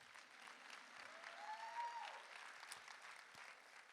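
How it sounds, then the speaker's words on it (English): Faint, steady applause from an audience at a motivational talk on manifesting, a soft wash of many hands clapping that swells slightly midway and continues throughout. "you can clap for that"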